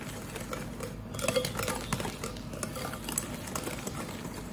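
Milk, sugar and cornstarch are stirred in a pot, with a spoon scraping and clinking against the pot in quick, irregular strokes, close and fairly quiet.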